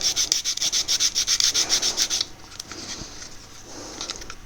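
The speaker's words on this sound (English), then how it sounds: "The more contact you have with a sanding stick, the easier it becomes." A sanding stick rubs a seat on an Occre 1:24 AEC bus model in quick, rhythmic back-and-forth strokes for about two seconds, then stops, leaving faint handling noises.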